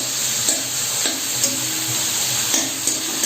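Tomatoes fry lightly in a pan over medium gas, giving a loud continuous sizzle with several soft clicks and scrapes as they are stirred.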